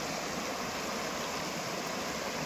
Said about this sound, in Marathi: पहा किती छान पाणी आहे, स्वच्छ पाणी आहे